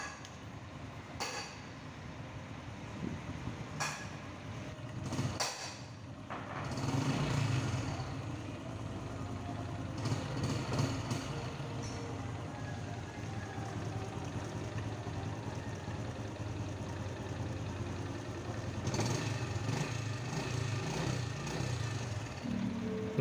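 A Honda Supra X 125 motorcycle engine idles close by with a steady, rough, low rumble throughout, broken by a few sharp knocks and clatters.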